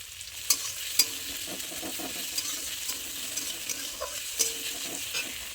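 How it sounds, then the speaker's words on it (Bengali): Pasta stirred in a sizzling pan before egg is added, a steady frying hiss with scattered scraping clicks of the spoon against the pan, close and continuous with no talk. "এটা কিছুক্ষণ নাড়াচাড়া করার পর এর মধ্যে ডিমটা দিয়ে দেবো"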